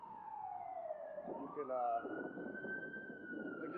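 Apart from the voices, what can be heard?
fire truck siren passing in traffic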